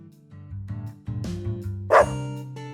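A Dalmatian in the video game Deadly Premonition 2 barks and yips in a quick run of sharp, close calls, loud and alone with no talk, ending in a louder bark.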